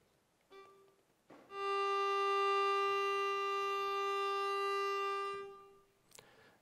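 A sampled violin sustains a single G4 at fortissimo: one loud, steady bowed tone that swells in after a brief faint note, holds for about four seconds, then fades, with no other sound.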